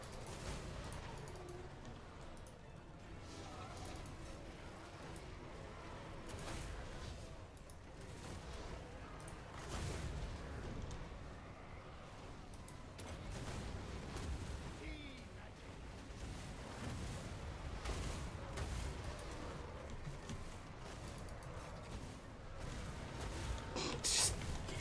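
Massed ranged units firing in a Total War: Warhammer 2 pirate-faction battle: a steady crackle of scattered gunfire and volleys over a rumbling battlefield din, with a voice talking over it.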